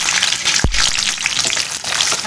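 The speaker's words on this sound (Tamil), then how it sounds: "கொஞ்சம் எண்ணெய் ஊற்றிக்கங்க. கருவேப்பிலை போட்டுக்கலாம். கொஞ்சம் சின்ன வெங்காயம்" Small shallots and curry leaves frying in hot oil in a pan, a steady close sizzle throughout with a brief low thump as they drop in.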